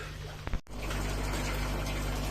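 Water is poured by hand into a 140-litre aquaponics aquarium, beginning with a brief clatter and a sharp break, then settling into a steady, close gushing fill that continues to the end.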